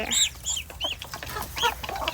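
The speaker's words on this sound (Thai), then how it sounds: "ไก่ป่าไก่แจ้" Red junglefowl and bantam chickens cluck close by, a quick series of sharp, bright clucks and calls spread across a couple of seconds.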